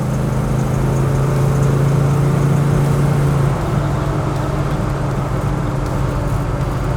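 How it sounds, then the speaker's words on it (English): A Formula S Fastback Barracuda, a Mopar A-body on new suspension, drives on a shakedown test run. Its medium engine drones steadily from inside the car amid road noise, with a low steady tone that fades midway. "So we're out doing some test driving, doing some shakedown runs."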